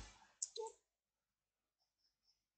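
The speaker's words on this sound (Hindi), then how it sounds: "फिर यहाँ पे मैं क्लिक करता हूँ" A computer mouse clicks: a couple of quick, sharp clicks, then near silence, then another crisp click at the end, close and alone with no talking.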